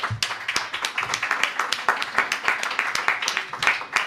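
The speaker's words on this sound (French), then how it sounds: "le camarade Frédéric, on peut l'applaudir" A small crowd in a bar claps, with dense, uneven hand claps pulsing steadily for several seconds, near and fairly loud.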